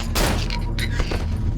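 Gunfire from the horror video game Cry of Fear: a loud burst of several sharp shots close together at the start, then a few more cracks and booming echoes fading out, with no talk.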